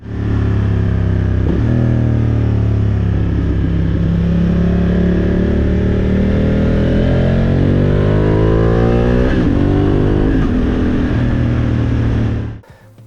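A motorcycle engine accelerates in standard riding mode, loud and close, with a steady rising drone through repeated gear pulls for about twelve seconds before cutting off abruptly.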